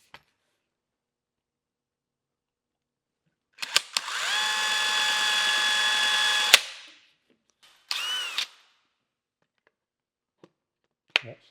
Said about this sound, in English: I'm going to go ahead and drill that hole in here